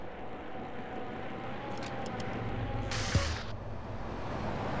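Airplanes at Los Santos Airport in the GTA San Andreas video game: a faint steady aircraft engine hum with a brief louder burst and a low thud near the middle, no voices.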